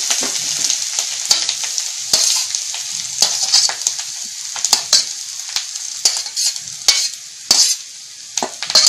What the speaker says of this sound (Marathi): आणि हा नारळ, किसलेला नारळ टाकायचा।